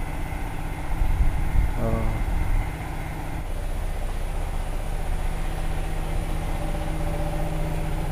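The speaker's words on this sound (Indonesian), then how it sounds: "Kayaknya ini mesin penggiling padi ya," A steady mechanical drone of a rice milling machine in a village runs continuously, with a low engine-like hum and a brief exclamation from a voice near the start.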